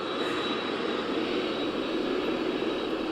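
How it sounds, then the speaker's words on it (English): Continuous, steady roar of a plane carrying the Seattle Seahawks taxiing home under a water-cannon salute after their Super Bowl win, loud and close with a broad rushing wash of engine and spray and no pauses. "The water salute is happening and the plane is going under"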